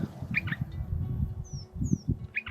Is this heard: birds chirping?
yes